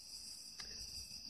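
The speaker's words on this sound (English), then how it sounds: "I can of course hear the frogs chirping in the distance and the crickets and the cicadas" Crickets and cicadas chirp in a steady, high, continuous trill outdoors at night, faint and unbroken, with a brief soft tick partway through and no voices.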